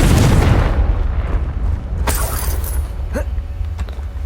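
Fiery explosion from the Confringo spell in Hogwarts Legacy: a loud, deep boom that decays into a rumbling tail, with a few sharp creaks and crackles, and no voices.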